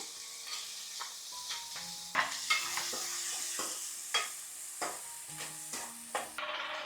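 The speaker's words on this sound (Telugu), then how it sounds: "ఇప్పుడు దీనిలో కట్ చేసుకున్న ఉల్లిపాయ ముక్కలను వేసేసుకుందాం" Chopped onions frying with cloves and cardamom in a pan for a dhaba-style egg curry, with a constant soft sizzle broken by repeated scraping stirs of a spoon, near and alone without voices.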